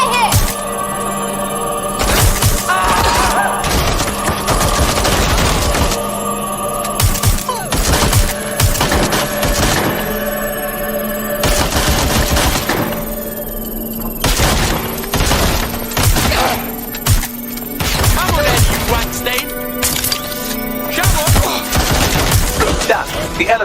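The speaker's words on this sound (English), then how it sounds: "I'm taking fire here!" Bursts of gunfire in the video game Watch Dogs Legion, dense overlapping volleys and shots with booming impacts, loud and chaotic across the whole span, with voices speaking between and under the shooting.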